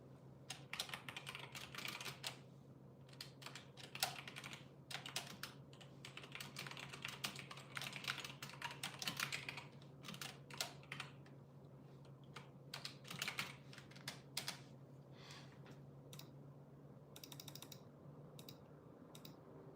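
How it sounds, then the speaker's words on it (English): Rapid, irregular keystrokes on a computer keyboard clatter in bursts over a steady low hum, close and fairly quiet, with no talking. "I'll type it in chat"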